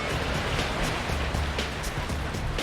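Heavy hurricane rain falls steadily in a dense, continuous wash, loud and close, with gusts and no pauses for the whole stretch.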